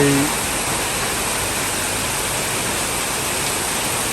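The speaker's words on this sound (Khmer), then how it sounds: "ឥឡូវនេះភ្លៀងខ្លាំងមែនតើមួយមេនេះគឺ" Heavy rain pours down in Banteay Meanchey province, Cambodia, near Serei Saophoan town, making a steady, dense, loud roar that fills the whole clip with little variation.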